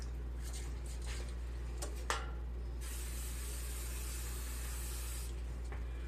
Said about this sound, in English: or you can spray your pan